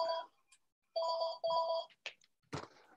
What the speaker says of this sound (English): someone's answering the phone in the background